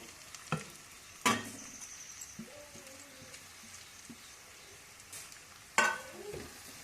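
Carrot and mint frying in a pan for mint rice, a soft low sizzle broken by a few sharp utensil clacks and scrapes against the pan, close and fairly quiet with no talking.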